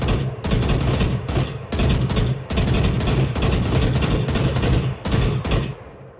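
Phantom rifle firing in Valorant, a rapid series of loud bursts in short sprays separated by brief pauses, ending on a fading tail.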